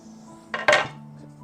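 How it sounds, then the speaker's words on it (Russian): A spoon stirs fresh cabbage soup in a pot on a switched-off gas stove, giving one short pair of metallic scrapes and clinks against the pot in otherwise quiet surroundings. "Еще перемешаю."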